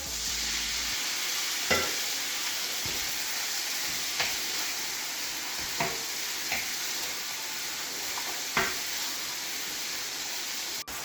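Beef gravy cooks in a sizzling pan, a constant bright frying hiss with several sharp spoon clinks and stirring knocks spaced throughout.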